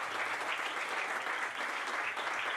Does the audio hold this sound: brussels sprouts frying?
no